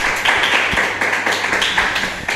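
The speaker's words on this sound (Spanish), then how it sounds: "fuerte aplauso para ella" Audience applause for the fallera mayor at a Valencian Falla Carrera San Luis event, a dense continuous wash of many hands clapping with a few sharper individual claps, steady and fairly loud throughout.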